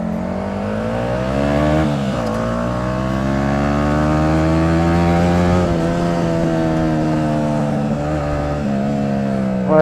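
A Yamaha R15 motorcycle with a burnt exhaust revs and holds a steady buzzing drone, loud and close, with slight pitch dips, and no speech.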